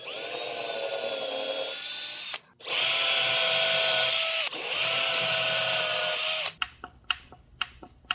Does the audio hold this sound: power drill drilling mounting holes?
yes